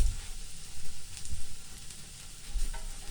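Garlic frying in a pan over medium heat for stir-fry noodles with broccoli. It sizzles steadily, with soft stirring scrapes and low thumps throughout.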